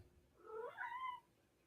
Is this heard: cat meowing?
yes